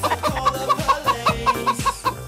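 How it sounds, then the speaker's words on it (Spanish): Chicken clucking in a quick, steady run of about a dozen short, loud clucks over a couple of seconds, with no voices. "Gallina!"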